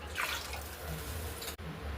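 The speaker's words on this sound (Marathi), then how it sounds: "इथे मी 2 तांबे पाणी घालत आहे." Water is poured from a brass pot into a cooking pan of spiced tempering with mustard seeds, cumin and turmeric, a close, soft splashing gush that breaks off briefly before continuing.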